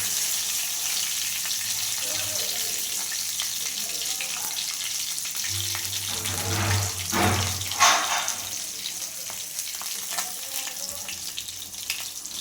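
Steady hiss and crackle of fish frying in hot oil, with a brief burst of running water and some clatter partway through.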